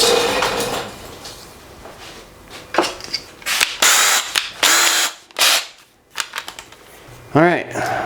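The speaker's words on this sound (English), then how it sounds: "it's time to drill some holes" A power drill bites into homemade CNC-made aircraft parts in short bursts, several loud whirring runs separated by pauses, with a person talking over the workshop noise.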